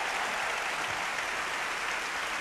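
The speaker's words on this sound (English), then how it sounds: "give yourself a huge round of applause." A studio or event audience applauds at the close of a show, a constant, fairly soft wash of clapping without pauses or voices.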